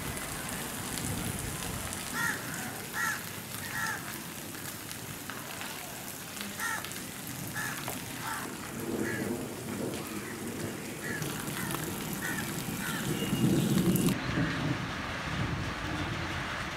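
Steady rain falls across a city under curfew, a dense even hiss with scattered drips, while faint distant chirping birds and a low rumble sit beneath it.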